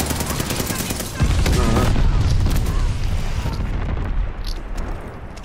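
Video game combat with a glide bomb exploding: a heavy booming blast erupts amid rapid gunfire, sustained rumble and crackle that slowly tails off, loud and close, with voices talking over it.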